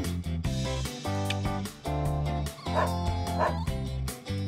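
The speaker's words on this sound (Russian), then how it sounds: "Это же собака. Ее нужно выгуливать." A rescued stray puppy yips and whimpers in short bursts, closely miked, against steady background music.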